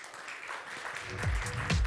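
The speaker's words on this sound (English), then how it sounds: "let's have a big round of applause for Mr. Wong" Audience applause at a Honor View20 smartphone presentation, a short burst of clapping rising toward the end of the moment, moderately distant in a hall.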